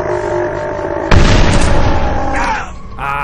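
A single loud booming revolver shot in a video game bursts in after a quiet stretch, followed by a sustained rumbling tail and a mechanical click near the end.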